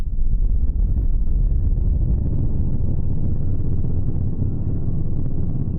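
Dense, muddy low-frequency synth drone washed in a default reverb patch, a continuous rumbling wall of bass with a smeared, murky low end and little top, steady and loud throughout.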